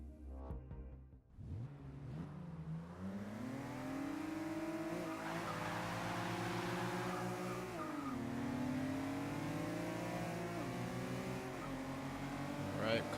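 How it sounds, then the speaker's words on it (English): Cars in Forza 6 accelerate hard toward 100 mph, with engine notes climbing steadily through gear changes. The roar is loud and sustained, with brief dips at the shifts and a voice talking over it. "we're going to accelerate both to 100 and see which one stops first"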